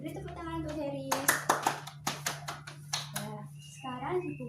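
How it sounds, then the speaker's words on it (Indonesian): Students in a classroom clap in a quick series of sharp, separate claps that are loud and close. Children's voices and a teacher's talk come before and after the clapping. "Beri tepuk tangan untuk Heris."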